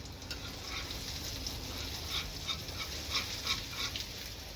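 Chicken shami kababs deep frying in oil, a steady dense sizzle with soft crackling pops throughout, no voices.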